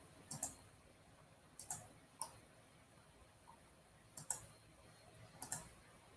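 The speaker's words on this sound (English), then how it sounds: "Always so much clicking." Faint, sparse clicks come in small pairs and clusters spread irregularly over several seconds against a quiet, hissy background, with no voices.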